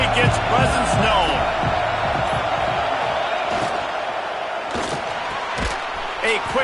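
Stadium crowd roaring at a KML versus Nebraska football game, a dense sustained wall of voices with scattered thuds and claps, steady and loud throughout.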